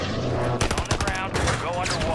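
Gunfire in Call of Duty Warzone 2 on Rebirth Island: a rapid, loud automatic burst of shots lasting about a second, amid dense game noise and overlapping voices.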